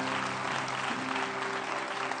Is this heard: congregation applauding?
yes